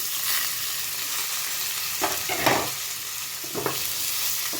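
Ridge gourd pieces hit a pan of fried onions with a soft continuous sizzle, and a few scraping stirs of a spoon come up close in short bursts partway through.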